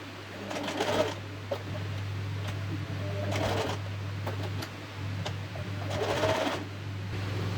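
A sewing machine runs zigzag stitches along blouse lace in short bursts of rapid mechanical whirring, separated by quiet pauses, with a steady low hum underneath.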